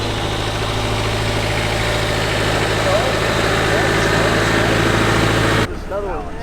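An old Land Rover's diesel engine runs with a loud, steady, rumbling drone close by, with people talking over it and the tone shifting slightly near the end.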